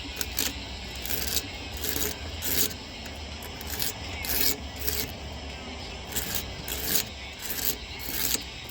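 Rhythmic scraping near the intake of a Datsun 280Z: repeated close, gritty strokes roughly every half second, rasping back and forth over a steady background noise.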